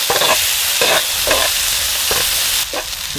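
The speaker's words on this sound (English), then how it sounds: "we're going to slowly cook this fish" Leatherjacket fish cooking with tomatoes in a pan on a small gas cooker, a loud close sizzle broken by several stirring scrapes.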